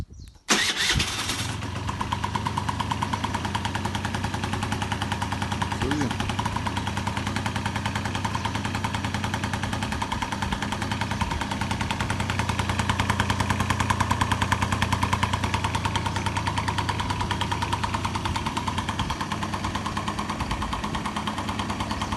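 Moped engine started remotely: a brief cranking burst, then the motor catches and settles into a steady, moderately loud idle with a continuous low hum and buzzy overtones, running alone with no talking.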